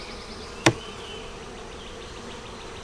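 Honey bees hum steadily around an open hive frame being checked for larvae and eggs, a soft continuous drone broken once by a single sharp knock.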